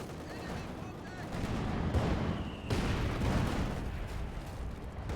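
Panther tank cannon fire in the World War II strategy game Company of Heroes 2, heavy booming shots amid dense battlefield gunfire and explosions, with a caster talking over the action.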